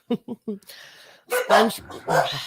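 Excited dogs bark in a quick burst of three sharp yips, then whine and yelp amid loud overlapping human talk and laughter nearby.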